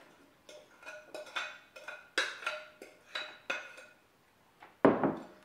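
Rhubarb crisp being scooped into a wide, low-sided baking pan, giving a string of light metallic clinks and scrapes, spaced unevenly, ending in one louder clatter.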